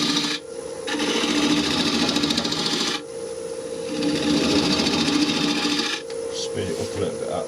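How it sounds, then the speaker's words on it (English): An elm and walnut bowl being shear scraped on a lathe, a close, loud rasping scrape in three long passes with short breaks between them over the steady hum of the spinning lathe. "Shear scrape backwards."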